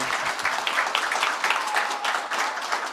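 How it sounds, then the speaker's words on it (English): A panel audience at an Illinois reentry conference gives a sustained round of applause, dense crackling clapping filling the room steadily for the full three seconds with no one speaking over it. "Can we give a round of applause to my panel?"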